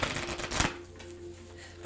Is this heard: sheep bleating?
no